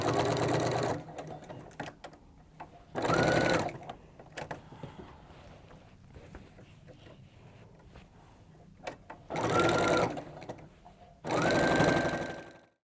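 A sewing machine stitches binding onto a quilted Christmas tree skirt in four short bursts of loud, close running, separated by quieter pauses with faint handling noise.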